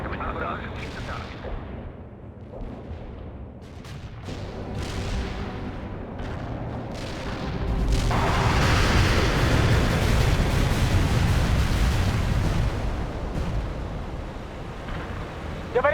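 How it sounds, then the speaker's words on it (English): Artillery barrage in the World in Conflict video game, with heavy rumbling blasts that swell into a loud sustained roar of explosions from about the halfway point, under radio chatter and voices giving orders. "We can deploy and lay down the artillery strike."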